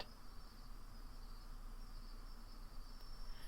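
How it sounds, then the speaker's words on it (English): Steady chorus of crickets chirping in tall grass on a hillside in a video game, a constant quiet trill with no voices over it. "The chirping of crickets in the tall grass greeted you, quiet and familiar."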